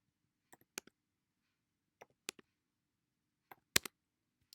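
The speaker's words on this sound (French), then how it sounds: "je tape arbre." Keystrokes tapped on a computer keyboard while typing a word into a small game program, heard as sparse crisp clicks in quick pairs and triplets separated by quiet pauses.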